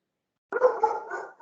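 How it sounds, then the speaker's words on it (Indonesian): Dog barking outside, one short muffled bark burst heard during an online class meeting, with another starting just at the end. "ada suara anjing menggonggong dari luar"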